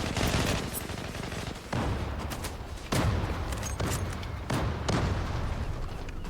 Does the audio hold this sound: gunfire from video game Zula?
yes